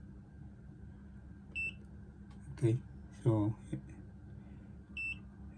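A multimeter's continuity buzzer checking a plug fuse gives two short, thin high beeps several seconds apart, with someone speaking briefly in between and a faint steady hum underneath.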